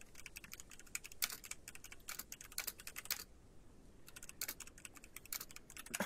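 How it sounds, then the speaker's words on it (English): Rapid bursts of typing on a computer keyboard, with quick clustered keystrokes separated by short pauses, fairly quiet and close, with no voices. "Why are you typing?"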